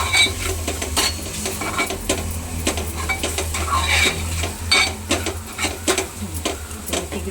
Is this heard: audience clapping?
no